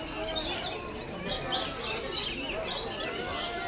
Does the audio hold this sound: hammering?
no